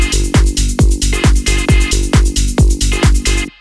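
A tech house synth bass runs through a resonant low-pass filter with high resonance, pumping in a steady rhythmic pattern of loud, punchy notes with filter sweeps, cut off sharply at the end.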